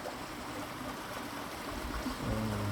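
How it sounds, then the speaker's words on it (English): A small creek gurgles outdoors beside flowering jojoba plants, a soft, steady trickling flow that stays faint and continuous throughout. "The creek is gurgling."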